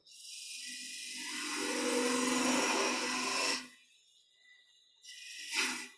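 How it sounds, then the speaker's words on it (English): A wood-turning gouge cuts a cove into a spinning candlestick on a lathe, a rising, harsh scraping hiss for several seconds that stops abruptly, then a brief second cut. "just clean up that bottom piece there with a passing cut with the gouge, and then I can cut my cove"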